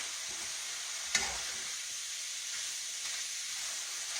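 Food for a casserole frying in a pan gives a steady, close sizzling hiss throughout, with one brief clink of a utensil near the start and no talking.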